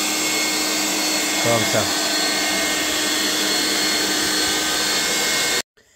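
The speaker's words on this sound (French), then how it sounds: "je prends un sèche-cheveux et je passe au-dessus" A hair dryer blows loudly and steadily over a damp oven door rubber seal laid on a mat, a continuous broadband roar that cuts off abruptly near the end, with a brief voice over it.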